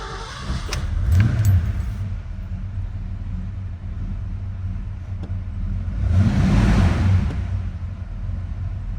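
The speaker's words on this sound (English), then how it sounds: "Nice, smooth running Mustang. I'll show you it was a cold start here." A 1984 Ford Mustang GT350 idling after a cold start: a steady low engine rumble with brief metallic rattles early on and two swells as the idle rises, close by with no talk.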